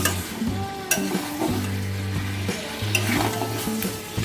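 Mutton curry is stir-fried in hot oil in a pot, a continuous sizzle broken by repeated scraping and clanking strokes of a spoon against the pan, close and fairly loud with no talking.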